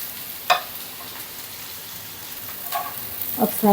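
Ridge gourd pieces fry in a pan with a low, steady sizzle, broken by a few sharp stirring scrapes at the start and near the end, close and without talk.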